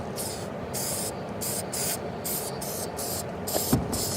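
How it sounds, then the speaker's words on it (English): Aerosol can sprayed in a series of short, hissing bursts onto an E30 sunroof, about nine quick puffs in a steady rhythm, close by. "Real light sprays."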